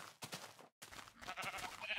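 Sheep in Minecraft bleating in two short bursts separated by a brief silence, close and clear with game ambience behind.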